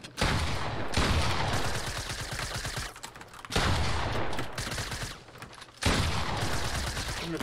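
Three loud, rapid bursts of gunfire from a shooter video game, each lasting a couple of seconds, separated by brief quieter gaps.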